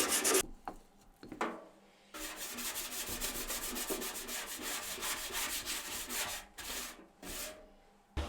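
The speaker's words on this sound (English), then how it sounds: "I've just got some wax that I'm going to brush over just to seal them" A brush spreads wax over old steel chisels in bursts of quick rhythmic rubbing strokes, close and fairly quiet, with short pauses between passes.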